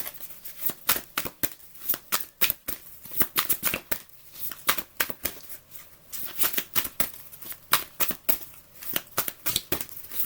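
Angel of love oracle cards being shuffled by hand, a rapid run of crisp close riffling and slapping bursts repeating in uneven rhythm, with no voices.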